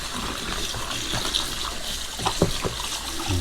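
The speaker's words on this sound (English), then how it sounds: "get some hot water here." Hot water runs from a kitchen tap while a pan is washed, a steady close splashing flow with brief clatters, faint and without talk.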